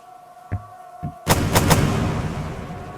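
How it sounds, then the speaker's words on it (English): Video game pistol fire: two faint clicks, then three loud gunshots close together, with a booming tail that rings out afterward. "See the pistol functionality is working as intended."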